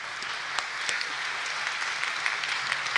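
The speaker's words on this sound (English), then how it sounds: "So I think we deserve a round of applause for that" Applause at the Marblehead Annual Town Meeting for settled contracts. A large crowd claps at a distance in a soft, steady rattle of many hands, with occasional sharper claps popping out and no talking.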